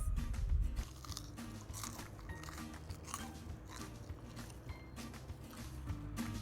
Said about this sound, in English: I'm just going to have one piece so that you can hear how crunchy it is